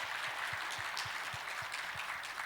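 A church congregation at a Korean Sunday service applauds a choir, with steady, continuous clapping from many hands held at an even level throughout.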